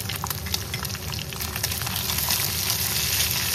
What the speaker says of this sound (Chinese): 下鍋噴點油，我們直接把這個五花肉放下去，給它點出油脂。